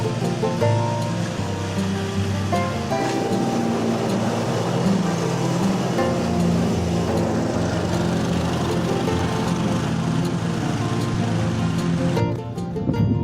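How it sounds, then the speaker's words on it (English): A lawn mower cuts grass with a loud, continuous engine drone close by. The drone holds steady before cutting off abruptly near the end. "I've got so much mowing to do."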